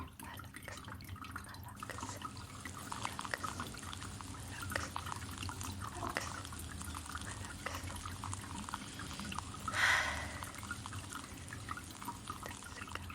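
Water poured while hair is washed, a steady soft trickle and drip running throughout with a brief louder splash near the end, close and gentle.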